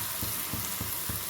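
Dried fish (karuvadu) fries in hot oil with a steady, dense sizzle, broken by soft rhythmic pulses of stirring at regular intervals, close up and with no talking.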